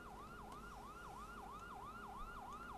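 A wailing ambulance siren sweeps up and down in a fast, repeating cycle over a low rumble, sounding close and steady, in the video game After Dreams.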